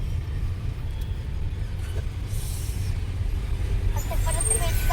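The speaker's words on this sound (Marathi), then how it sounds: "बघा ना फ्रेंड, पुण्यामध्ये किती ट्रॅफिक होती" City road traffic in Pune while waiting at a signal, a low, steady rumble of engines with a brief hiss of air brakes and some passing vehicles, heard from inside or near a vehicle.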